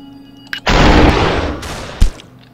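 Gunfire in the video game Superhot: a sharp shot at about half a second sets off a loud, sustained burst of rapid fire lasting over a second, then one more sharp crack before it fades.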